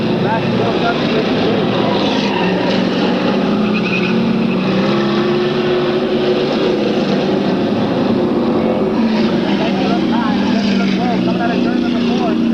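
Race cars roar around an oval track during a May 1998 race, a steady dense wash of engine noise with no breaks, close and loud, while an announcer calls the action over it.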